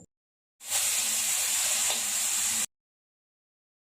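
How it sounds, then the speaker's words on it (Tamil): Tomatoes with a pinch of turmeric and salt sauté in a pan for radish sambar, giving a steady, close sizzling hiss that runs for about two seconds between silent stretches, with no talk. "மஞ்சள் தூள் 1 சிட்டிகை அளவு, தக்காளி நல்லா வதக்கி விடுங்க."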